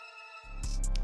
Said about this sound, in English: So very interesting stringy sound there, which also acts like somewhat of a lead in this loop.